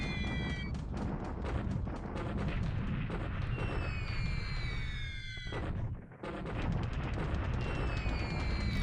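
Anti-aircraft flak fire during an air attack on ships in port in the War in the Pacific game, with a steady barrage of rapid booms and pops beneath whistling falling tones, briefly cutting out before resuming.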